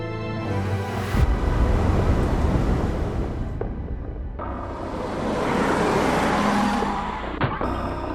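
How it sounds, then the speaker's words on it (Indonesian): A car's engine and tyres rumble as it rolls in nearby and settles, steady and fairly loud with a brief gap and a couple of soft clicks; no talking. "Itu kan mobil Pak Arga."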